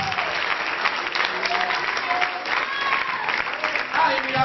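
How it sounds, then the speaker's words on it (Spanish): A church congregation at a Spanish-language worship service applauds loudly and continuously, a dense wash of clapping with voices calling out and talking over it throughout. "aplauso fuerte a Dios"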